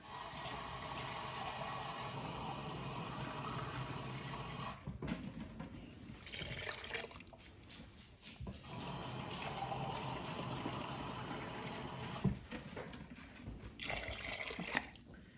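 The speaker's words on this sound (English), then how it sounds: "Now I'm gonna add some water to this" Water from cans pours steadily into a pot of beans in two long gushes, a close, broad rushing splash with a brief pause between pours.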